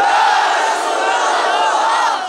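A large crowd at a religious gathering in Dhaka roars a loud, sustained chant of Allahu Akbar in unison, a dense wall of voices lasting a couple of seconds.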